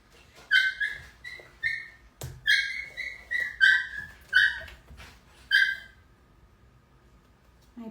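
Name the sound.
puppies playing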